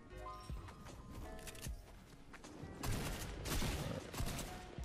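Gunfire in Fortnite: scattered shots crackle in short volleys, faint and distant at first, then louder, denser bursts of firing.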